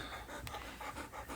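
A dog panting quickly and rhythmically close by, quiet short breaths in a steady run with no talking.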